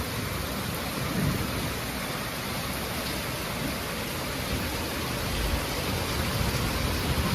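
Steady, heavy rain pours down as a continuous broadband hiss that stays even and loud throughout, with no voices over it.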